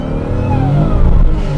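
A twincharged 1JZ Toyota Soarer with a supercharger from a 5.5-liter AMG engine accelerates hard, its engine note rising loud and close in a single sustained pull with no talking.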